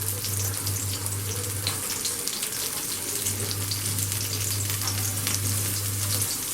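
Chopped carrots and beans stir-fry over a high flame, a steady loud sizzle running throughout with a constant low hum from the stove or hood beneath, and no voices.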